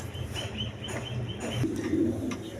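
High-flying Giribaz pigeons, a black-throated pair, coo softly in a low repeated murmur, fairly close, with a steady faint background hum and no talk.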